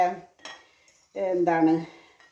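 Dishes and cutlery clink in a few separate bursts as cauliflower bajji is plated, with a short clatter first and then a longer, louder run of ringing plate and utensil contact close by.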